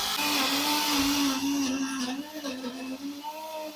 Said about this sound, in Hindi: अब मैं ब्लेंडर को स्टार्ट कर लूंगी।